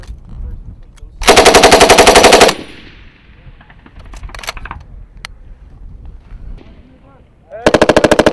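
Two loud bursts of machine gun fire on a Marine weapons familiarization range, one long and one cut off at the end, with distant shots and faint range noise between them.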